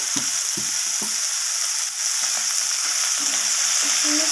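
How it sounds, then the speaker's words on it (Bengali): Spices sizzle and crackle in hot oil during tempering for a Bengali prawn curry with pumpkin, pointed gourd and potato, a steady close hiss with a few soft stirring knocks early on, no voices. "তো ফোড়নটাকে একটু আমি ভাজা ভাজা করে নেব"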